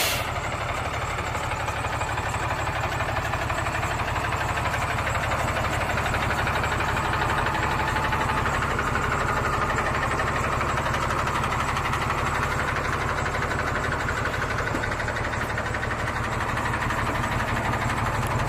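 A Cummins diesel engine in a 2006 Ford F650 truck fitted with an auto crane and welder idles steadily throughout, a continuous low rumble with no talking over it.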